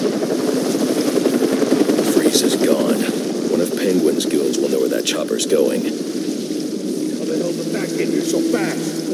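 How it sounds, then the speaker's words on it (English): A helicopter flies off in the Batman Arkham Origins DLC Cold Cold Heart, a steady loud rotor roar with rumbling, storm-like noise throughout, while game voices talk over it. "One of Penguin's goons will know where that chopper's going"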